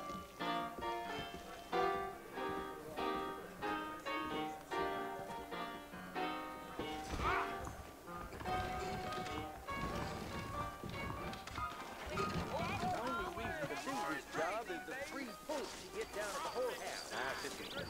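Horses trot in the Red Dead Redemption video game with a steady, rhythmic clip-clop of hooves, heard under background music and voices.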